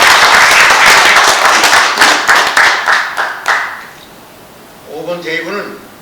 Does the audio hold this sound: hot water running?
no